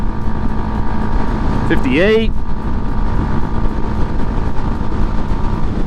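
Honda Grom 125cc motorcycle held at full throttle on flat ground in fifth gear, a steady loud engine drone mixed with heavy wind rush, while the rider speaks briefly over it.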